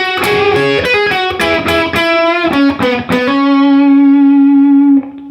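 Distorted electric guitar plays a line from a song's solo: a quick run of picked notes with effects, ending in a long, sustained bent note that rings loudly for a couple of seconds before cutting off.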